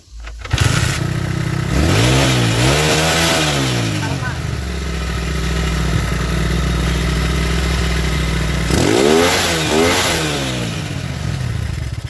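A Yamaha Megapro motorcycle engine with the air filter box removed is revved twice, each time climbing sharply and falling back to a steady idle, close and loud throughout.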